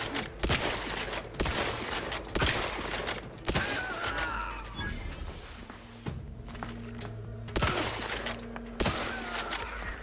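Gunfire in The Outer Worlds 2 video game: repeated sharp shots in irregular bursts, some rapid, loud and close, with a quieter stretch of footsteps and ambient game sounds between volleys.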